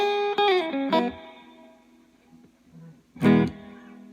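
Electric guitar through the clean channel of a Fender Champion 110 amp: a few picked notes and chords ring bright and clear, fade to near silence, then one strummed chord sounds loudly.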